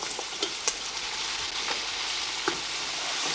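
Chicken pieces browning in a wide, thick-bottomed pan, a steady close sizzle and crackle of frying with a few sharper pops and faint stirring taps, no voices.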